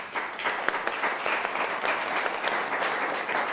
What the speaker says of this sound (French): j'ai proposé à Anne-Sophie Jiménez de venir nous rejoindre sous vos applaudissements